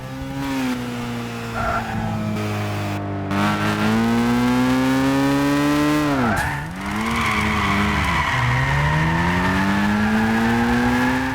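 A Mazda RX8 drift car in the racing game Gran Turismo 6 roars loudly, its naturally aspirated engine revving up and down with dips between gear changes while tires squeal through slides.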